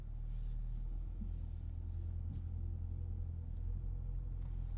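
A 2022 Kia K5 GT with the GT1 package backs out slowly, giving a low, steady engine rumble heard from inside the cabin, with a few faint clicks and light creaks over it.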